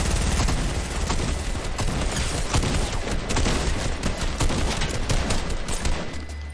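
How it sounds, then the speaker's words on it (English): Dense, rapid gunfire rattles almost without pause in the Fortnite video game, a loud fusillade of overlapping shots and bursts that fills the whole stretch with no voices heard. "I just heard people shooting"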